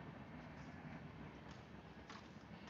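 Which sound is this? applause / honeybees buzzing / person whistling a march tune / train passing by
train passing by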